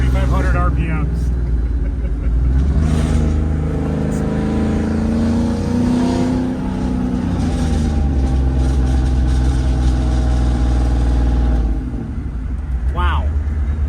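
The LS V8 swapped into a Volvo 244 revs loudly up close, its pitch sweeping up to around 4,500 RPM and then falling back, with a voice talking over the engine.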